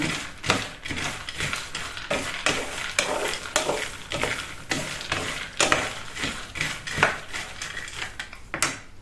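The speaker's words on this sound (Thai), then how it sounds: "อย่าลืมย้ำนะคะว่าเราต้องคอยกวนถั่วเหมือนกับเราคั่วถั่วลิสงบ้านเราเลยค่ะ" Beans dry-roasting in a pan, stirred continuously so a scraping, rattling rhythm of utensil on pan and tumbling beans repeats close up for the whole stretch, with a faint frying hiss beneath; no speech.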